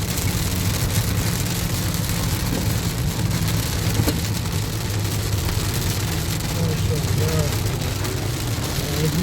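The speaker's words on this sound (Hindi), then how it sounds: "गाइस ये बारिश हो रही है हमारे शहर हफीज़ में" Heavy rain falls steadily in Afif, Riyadh, a dense, constant hiss close by, with a low engine-like rumble underneath throughout.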